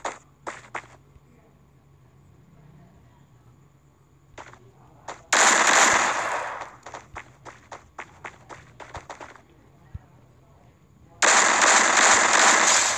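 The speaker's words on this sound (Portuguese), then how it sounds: "Vê de onde que tá vindo esse tiro." Gunfire in the Free Fire battle royale video game: two long, loud bursts of automatic fire separated by a run of sharp single shots and footsteps, with no talking.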